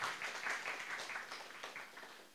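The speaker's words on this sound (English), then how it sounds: "You can applaud them already." An audience at a coding bootcamp demo day in Shanghai claps in a dense, steady burst of applause that fades slightly toward the end.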